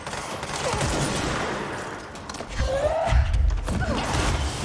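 Sniper and other gunfire in the video game Control forms a dense, continuous mix of shots and impacts at moderate loudness, growing heavier in the second half, with a few deeper thuds mixed in and no talk over it.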